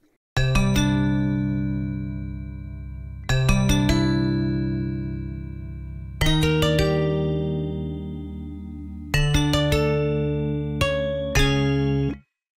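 Synth instrument playing bright, bell-like chords with plucky attacks, struck roughly every three seconds and decaying slowly between hits, with quick extra notes near the end, alone and fairly loud.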